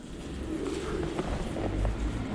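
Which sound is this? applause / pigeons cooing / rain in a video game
pigeons cooing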